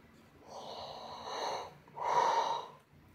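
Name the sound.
person yawning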